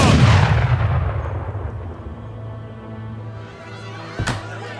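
Heavy cannon blast in an Age of Empires III battle, a booming report that rolls off into a long rumbling decay, followed by a sharp crack of a second, smaller shot near the end.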